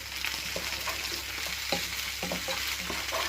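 Sausage casserole vegetables, including celery, sizzle steadily in a hot pan, with soft scrapes and stirring clicks from a utensil breaking through the constant frying hiss.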